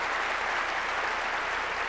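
A church congregation breaks into applause during a sermon, a dense even wash of many hands clapping, steady and unbroken, with no voices over it.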